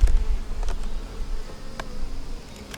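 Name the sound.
honey bees buzzing at an opened beehive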